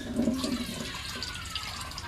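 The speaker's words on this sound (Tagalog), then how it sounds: "Tapos, magbutang ako ng tubig." Water is poured into a cooking pot of chopsuey vegetables, a short gushing splash up front that fades into quieter trickling and settling.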